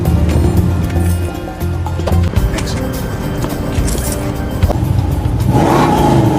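A car drives away, its engine noise loud and close throughout, rising slightly near the end.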